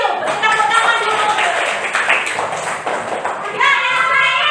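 A classroom of pupils clapping hands together after a student shows Malay traditional dress, brisk, fairly loud claps mixed with a teacher's voice talking over them, ending with more speech.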